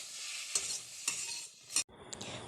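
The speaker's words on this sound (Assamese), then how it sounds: "5 মিনিটমান সময় ভাজিব লাগিব।" Rangalao leaves frying with ginger, garlic, onion and chillies in a wok, giving a loud, close, continuous hiss and sizzle broken by three sharp stirring scrapes, then quieter sizzling after a brief pause.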